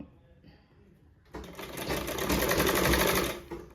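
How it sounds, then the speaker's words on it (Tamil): A sewing machine stitching a blouse sleeve joint starts up after a quiet moment and runs in a steady, close, rapid mechanical whir for a couple of seconds before slowing. "அப்படி கொண்டு வந்து இப்படி கொஞ்சம் கொஞ்சம் வளைச்சி தையல் போட்டுக்காங்க"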